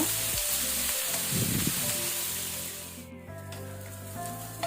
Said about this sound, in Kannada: ಇದನ್ನೀಗ ನಾವು ಒಳ್ಳೆ ರೀತಿ ಮೀಡಿಯಂ ಟು ಹೈ ಫ್ಲೇಮಲ್ಲಿ ಫ್ರೈ ಮಾಡ್ಕೊಳ್ಬೇಕು, ಕಲರ್ ಚೇಂಜ್ ಆಗೋ ತನಕ